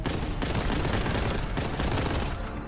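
Rapid sustained gunfire from the Warhammer 40,000: Boltgun video game, a dense unbroken barrage of shots lasting the whole stretch, loud and close, fading slightly at the end.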